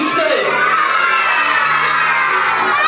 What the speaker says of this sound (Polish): Każdy krzyczy swoje imię, najgłośniej jak potrafi.